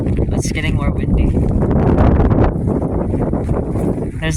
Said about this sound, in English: It's getting more windy.